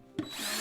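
A power drill starts with a brief clunk and then whirs steadily, its high motor whine rising and holding for a moment in a quiet room during a DIY winter-sowing seed-starting project.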